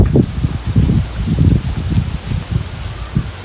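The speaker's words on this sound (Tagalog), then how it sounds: "Hangin pa lang." Wind gusts through leaves in an outdoor backyard, producing rough, rumbling bursts close to the microphone that swell and fade in an uneven rhythm.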